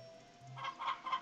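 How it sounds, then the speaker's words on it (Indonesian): A chicken in the Harvest Moon video game gives three short clucks in quick succession, clear and close over a faint background tone. "Oke, jadi ayam kita yang ketiga sudah menetas ya."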